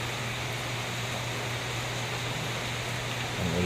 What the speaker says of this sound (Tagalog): Ang ulan naman mga kaibigan.